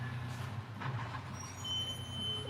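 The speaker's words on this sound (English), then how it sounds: "and now we can hear the garbage truck." A garbage truck rumbles faintly outside on a Friday collection run, a low, distant engine drone with brief squealing and hissing brake tones, heard alone without talking.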